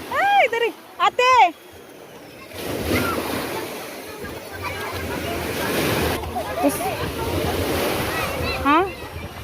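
Ocean waves roll and wash onto a white-sand beach in a steady, loud surf roar with wind buffeting the microphone, while people talk and shout excitedly over it.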